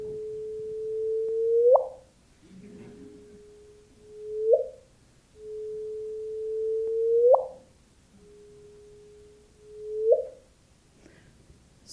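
Gravitational-wave chirp from two colliding black holes, pitch-shifted into hearing range. A steady tone rises into a sharp upward sweep at its end, and the pattern repeats four times with near silence between, clean and isolated.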